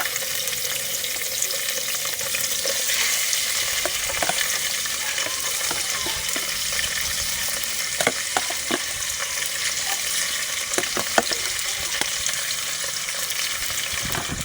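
Squid frying in a very hot pan gives off a steady, dense sizzle with occasional crackles and pops throughout, moderately loud and continuous with no voices.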